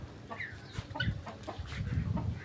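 A red rooster clucks in short, repeated calls close by, with soft farmyard background noise and no one speaking.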